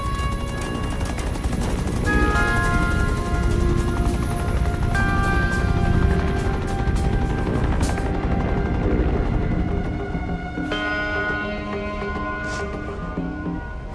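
Helicopter crash in the video game inFamous First Light: a loud, steady rotor roar with scattered sharp impacts and bursts like gunfire, easing slightly toward the end.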